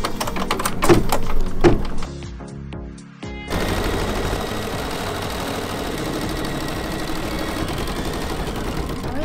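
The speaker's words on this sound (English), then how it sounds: "I'm going to go ahead and sew the next stitch sequence to tack down that fabric" Embroidery machine stitching a sequence to tack down fabric in the hoop: a rapid, steady mechanical needle chatter, loud and close, with a brief dip before it settles into a continuous even rattle to the end.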